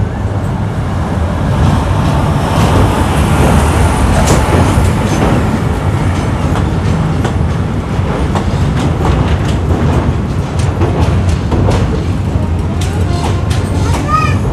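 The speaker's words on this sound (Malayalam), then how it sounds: "തിരുവനന്തപുരത്തേക്ക് പോകുന്ന ഏർനാട് എക്സ്പ്രസ്." The Ernad Express bound for Thiruvananthapuram crosses the Netravati bridge, a loud continuous rumble with rhythmic wheel clatter and rail noise filling the whole stretch.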